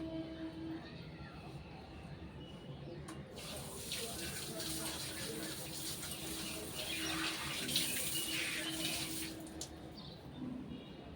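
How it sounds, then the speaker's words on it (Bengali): Water pours steadily onto potted garden plants in a continuous, moderate splashing rush that swells slightly midway, with faint birdsong and low voices in the background. "এবার গাছের মধ্যে আমি অল্প করে জল দিয়ে দেবো, কিছুটা গাছে এবার জল দেবো"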